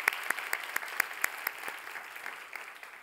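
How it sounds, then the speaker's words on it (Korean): A church youth congregation at Sunday worship claps for a departing pastor, with a handful of sharp, distinct claps early on that thin out into a softer, scattered patter. "이준인 목사님 잘 다녀오시라고 박수 한번 보내주셨으면 좋겠습니다"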